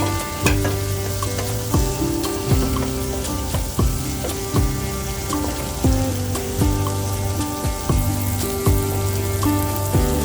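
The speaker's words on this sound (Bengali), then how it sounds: "টমেটো দিয়ে একটু ভালোভাবে নেড়ে নিতে হবে, আমি নেড়ে নিচ্ছি।" Tomatoes fry with a steady sizzle in a pan while being stirred, the spoon scraping in a regular rhythm over the crackle, close up with no voices.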